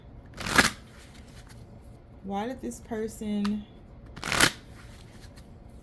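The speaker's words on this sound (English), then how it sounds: "I don't know why I'm shuffling this much, but I am like in a zone shuffling." Tarot cards riffled and shuffled in two distinct loud bursts, near and crisp, with a woman's short spoken phrase between them.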